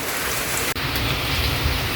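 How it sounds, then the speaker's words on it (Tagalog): Heavy rain pours steadily during a typhoon at a farm, a dense, loud hiss of water on surfaces with a brief dropout partway through. "Umuulan!"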